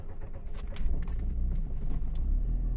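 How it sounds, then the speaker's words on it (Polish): A 2000 Seat Cordoba 1.6 engine idles just after starting. The car has trouble starting when warm and runs on three cylinders. A steady, close, low rumble continues with faint light clinks over it. "fura no akurat teraz odpaliła"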